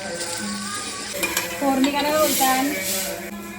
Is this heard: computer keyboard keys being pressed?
no